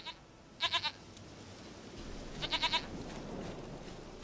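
A goat in The Witcher 3 gives two short, rapid bleating bursts of three or four pulses each, clear over a low ambient game background.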